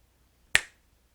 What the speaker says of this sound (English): if I snap my fingers